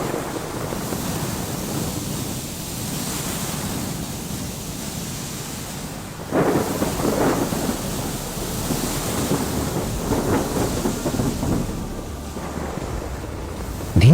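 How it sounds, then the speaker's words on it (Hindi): A thunderstorm at sea in a 2D animation, with a ship caught in the rising storm: a steady roar of wind and crashing waves swelling in bursts, loud and continuous with no talking. "धीरे धीरे तूफान और तेज होता जाता है और जहाज डूबने लगता है।"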